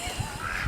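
Pet ducks calling in the morning, a few short nasal honking quacks close by, brief and fairly loud, with no talking.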